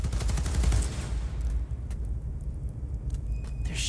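Rapid bursts of gunfire from a Spider-Man video game, dense and loud at first, then thinning into scattered shots over a steady low rumble.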